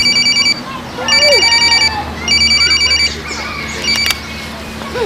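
A telephone rings in repeated bursts of bright, electronic double trills with short pauses between them, loud and close indoors, while a voice speaks faintly underneath.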